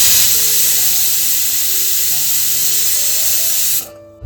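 A pressure cooker cooking dal khichdi whistles and lets off steam in a loud, steady, high hiss for about four seconds, then stops abruptly.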